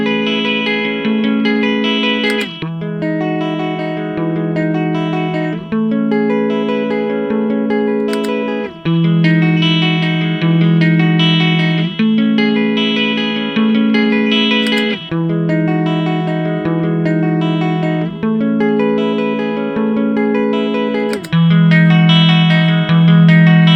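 An electric guitar played through a Kilter pedal gives a loud, continuous run of distorted, effects-laden chords and notes with heavy sustain, changing every few seconds in a steady rhythm, with no voices.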